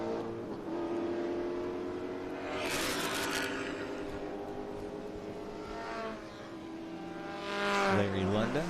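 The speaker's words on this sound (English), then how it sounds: "Larry Lunda, Porsche 914" Classic race cars, including a Porsche 914 and a BMW, roar past on a road course during an SVRA vintage race, engines rising and fading as each car passes, with a commentator talking over the track noise.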